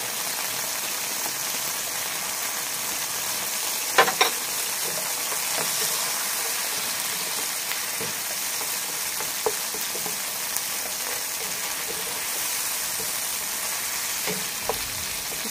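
Garlic frying in a pan for pork with broccoli, a steady broadband hiss of sizzling oil with a few sharper pops and spatters, close and continuous with no talk.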